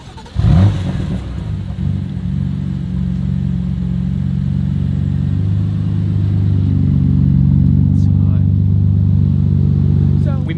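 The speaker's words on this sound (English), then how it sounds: "Sophie, will you record me turning on the car?" A car engine cranks and catches with a sharp burst, then settles into a loud, steady idle with a low rumble that continues to the end, recorded up close.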